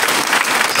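A church congregation applauds its pastor in a brief, dense burst of steady clapping from many hands, filling the room evenly from start to finish.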